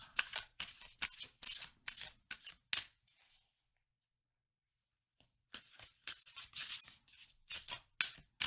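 Tarot cards are dealt out in a row, heard as close, soft papery swishes and slaps in a quick series, then a few seconds of silence, then another run of card flicks and rubs.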